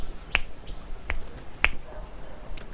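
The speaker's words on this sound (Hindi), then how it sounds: "अब मैं चुटकी बजाऊंगा तब आएगा" A single person snaps their fingers three times, crisp and close, at uneven intervals with quiet gaps between the snaps.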